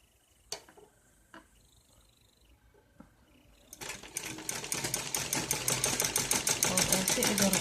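Quiet tapping and handling give way to a domestic sewing machine stitching a ladies' suit of net cloth, its rapid rhythmic clatter building and running steadily near the end.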